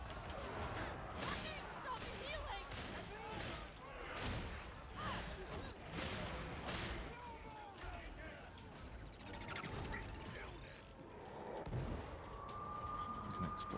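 Explosions and gunfire ring out in the video game Warhammer 40,000: Darktide, with repeated booming blasts and rapid shots in a dense, continuous battle mix that stays fairly quiet overall.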